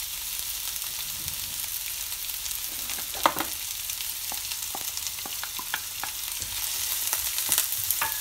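Onion frying in 2 to 3 spoons of oil in a pan while making a ridge gourd (dodka) bhaji, with a steady sizzle and occasional stirring clicks and scrapes, close by and with no talk.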